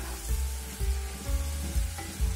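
Homestyle cabbage with glass noodles stir-fried in a wok, a close steady sizzle broken by repeated rhythmic scrapes and tosses of the spatula.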